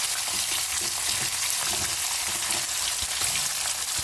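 Green beans, raw plantain and pumpkin fry together in a pan, giving a loud, steady crackling sizzle with occasional stirring scrapes throughout.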